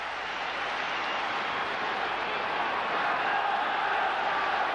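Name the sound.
football stadium crowd reacting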